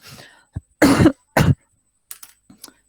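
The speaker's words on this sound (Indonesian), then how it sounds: "Batuk lagi." A person coughs a few times, two strong harsh coughs in the middle with smaller throat sounds before and after, close and otherwise quiet.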